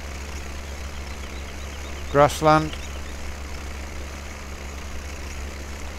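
A tractor engine idles steadily with a low, constant drone throughout, close by, while someone briefly speaks over it.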